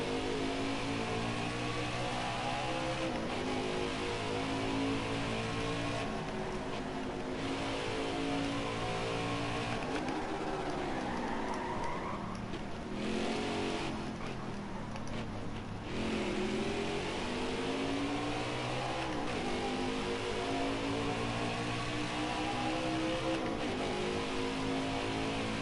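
Race truck engines in the video game NASCAR Heat 5, Gander Truck Series at Canadian Tire, roar loudly and continuously, with pitch climbing through the gears and dropping at downshifts as the trucks run down the straightaway.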